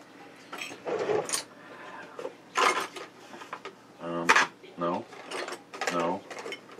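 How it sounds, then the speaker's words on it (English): Rummaging through a drawer of odds and ends in search of a bottle opener, with loose metal objects clattering and ratcheting in repeated short bursts close by, amid brief pauses. "Let's reach into the drawer of goodies."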